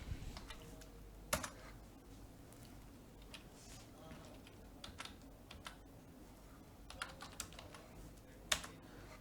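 Keys clatter in scattered bursts as Python code is typed on a computer keyboard, fairly faint, with a few louder keystrokes standing out while someone talks over them.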